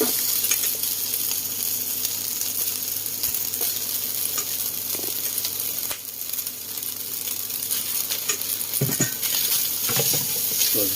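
Pad see ew noodles and vegetables stir-fried in a pan make a steady, loud sizzle that runs continuously, with occasional scrapes and stirring clatter over it.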